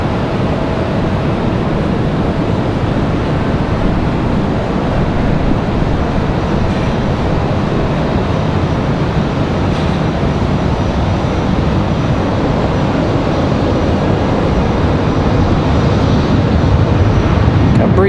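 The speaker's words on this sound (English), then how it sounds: "Breeze Airways in that E190. on the roll." A Breeze Airways Embraer E190 rolls down the runway for takeoff at Raleigh-Durham, with a constant broadband engine rumble of moderate loudness and no distinct changes over the stretch.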